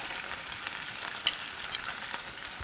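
Red onions fry in butter loaded with marinade and sauce, giving a steady, fairly quiet sizzle with faint stirring crackles and no voices.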